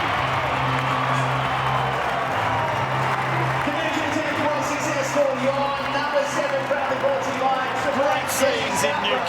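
Stadium crowd roars and cheers after a goal kick at a sold-out Newcastle women's rugby league match, a broad sustained wash of voices and whistles with scattered whoops rising toward the end.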